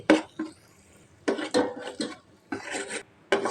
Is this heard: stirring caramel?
yes